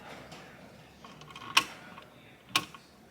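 The electric fuel pump of a Triumph TR4 gives two sharp, distinct ticks about a second apart, close by, against a faint, quiet background.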